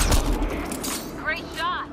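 Gunfire rings out in the video game Mass Effect Andromeda as a loud burst of shots up close, followed by a character's voice speaking briefly over the fading noise.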